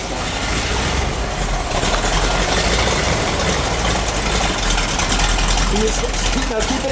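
A 1970 Plymouth Cuda convertible with a 440 engine idling close by, a loud, steady low rumble that holds throughout with a slightly uneven lope, and voices talking over it.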